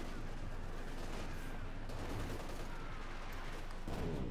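Panther tank machine guns firing in Company of Heroes 2, a dense continuous battlefield rattle of automatic gunfire with distant explosions layered underneath, steady and loud throughout.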